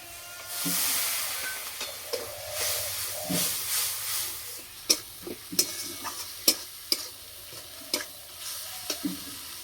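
Ground turmeric, cumin and chilli powder with a splash of water sizzle in hot oil in a pan for a village-style tilapia curry. A steady hiss is stirred through, with sharp clacks of a utensil against the pan near the end.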